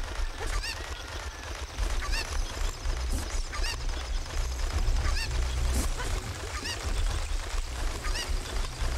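Cucco chickens in Zelda Ocarina of Time, squawking and clucking repeatedly in quick bursts over a steady game backdrop, fairly loud and continuous with no voice.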